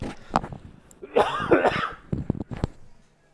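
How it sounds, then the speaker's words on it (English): A person coughs and clears their throat several times up close, a raspy burst in the middle with short sharp coughs around it. "Had to cough. Excuse me."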